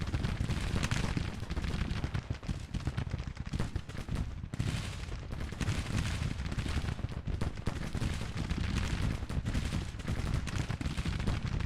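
Dense Civil War battle din in Grand Tactician: The Civil War, with continuous crackling musket volleys and booming cannon layered into a loud, unbroken roar.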